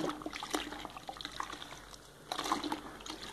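A crepe bandage being soaked in water: soft sloshing and gentle trickling as the fabric is moved slowly, quiet and close, with a calmer stretch in the middle.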